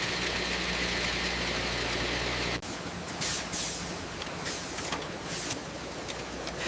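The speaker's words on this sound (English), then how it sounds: "a spinning magnetic chuck torques them down tight, locking the fresh sauce inside the plastic container" Bottling-line machinery caps ketchup bottles, spinning magnetic chucks torquing red plastic caps down onto the necks: a loud, steady mechanical drone that cuts off abruptly into a lighter run of clattering, hissing pulses.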